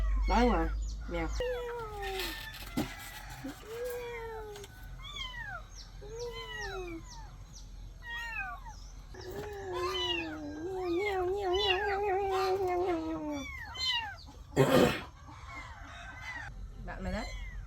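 Two small abandoned kittens meow repeatedly in high, drawn-out cries, close and clear, while someone speaks softly and calls to them in between.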